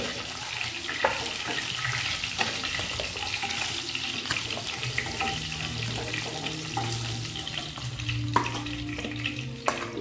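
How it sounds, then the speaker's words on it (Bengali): Turmeric-and-salt-coated fish fries in oil in a kadai with a dense, continuous sizzle and crackle, plus scattered clinks and scrapes of a spatula, close and steady throughout with nobody talking. "বাকি মাছটাও ভেজে নেব"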